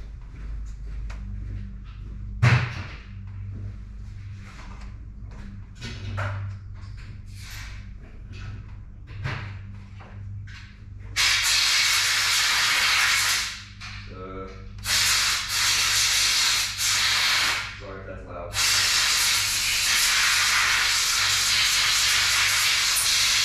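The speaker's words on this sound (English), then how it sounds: "Blow this out with an air gun." Compressed-air gun blasting debris out of a diesel fuel filter housing on a Powerstroke, loud broadband hissy bursts in repeated long blasts after a stretch of quieter handling noises, no talk.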